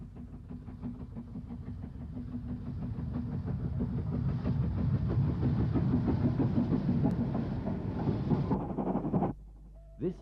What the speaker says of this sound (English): A BR standard Class 4 locomotive.